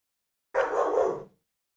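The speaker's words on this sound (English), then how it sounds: "Must be a dog outside." A single dog barks outside, one short burst of about three quarters of a second, fairly clear against otherwise silent surroundings.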